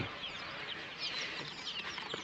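Free-range country chickens and chicks give soft, scattered clucks and chirps, quiet and fairly close against a faint outdoor background, with no talking.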